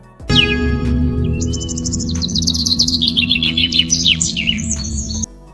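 AI-generated ambient birdsong with a low wind bed: bright, rapid chirps and twittering trills sit over a steady rumbling hum, loud and close, then cut off abruptly.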